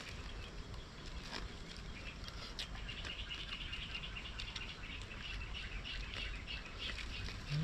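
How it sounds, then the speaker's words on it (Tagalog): Faint, scattered bird chirps near a river, set against a steady low rumble of flowing water and outdoor ambience, with no talking. "Relaxing yung huli ng ibon eh."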